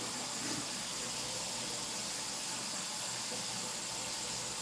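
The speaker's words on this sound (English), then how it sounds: "So I'm just filling this up with water right now." Water runs from a kitchen tap into a pot, a steady, close rushing hiss that continues without break and without any talking.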